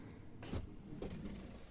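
A drawer in a campervan kitchen unit slides open or shut, two short close scraping thumps about half a second apart over a faint background hum.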